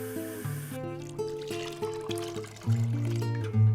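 Water is poured into a bowl holding lime juice and sugar, a soft trickling splash heard faintly beneath sustained music.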